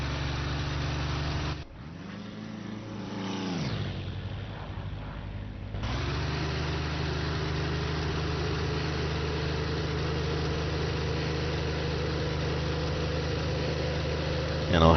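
P-51D fighter's piston engine in the IL-2 flight sim, a steady, droning engine that briefly cuts out and then returns at full RPM, rising gradually in pitch and holding loud and constant.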